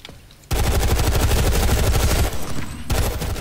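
Rapid automatic gunfire from the shooter game Planetside 2 rattles out in a dense, loud burst, pauses briefly, then resumes with more fast shots.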